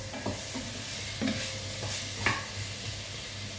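Food frying in a pan as a cook stirs it, with a steady broadband sizzle and a few brief scraping stirs, close and moderately loud, no speech.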